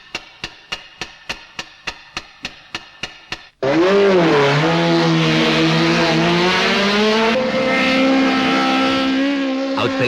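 A Toyota Corolla race car laps a circuit in a 1981 competition: a loud, sustained engine roar shifts pitch as it passes, following a run of evenly spaced metallic clicks.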